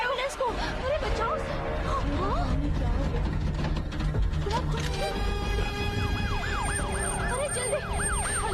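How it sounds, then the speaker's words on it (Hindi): An ambulance siren wails and draws closer, its rising and falling tone growing more prominent toward the end, mixed in with traffic noise and voices in a busy street scene in a Hindi-dubbed action movie. "अरे जल्दी, एम्बुलेंस आ गई।"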